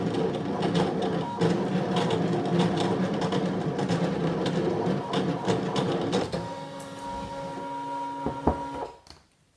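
A Brother ScanNCut cutting machine cuts vinyl on a mat with a steady mechanical whir and rhythmic carriage movements, close and continuous, then stopping with a few clicks near the end.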